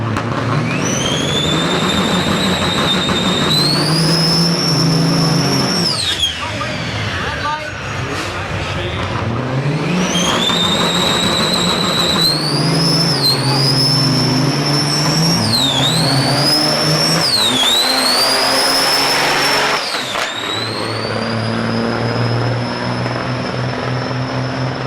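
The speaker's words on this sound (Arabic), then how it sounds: "فيديو ده بتاع دراج ريسنج بتاع عربيات نقل محمله اطنان وراها من الخشب" Heavy trucks drag racing while towing tons of wood, loud sustained engine roar with rising and falling harmonic whines through repeated runs, near and continuous.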